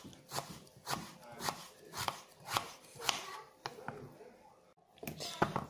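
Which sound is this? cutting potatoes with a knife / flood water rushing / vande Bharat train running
cutting potatoes with a knife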